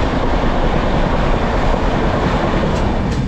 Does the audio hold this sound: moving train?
yes